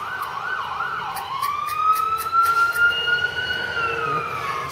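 An ambulance siren wails past on a road, its rising and falling tone steady at moderate distance, swelling louder midway then fading slightly, with no talk over it.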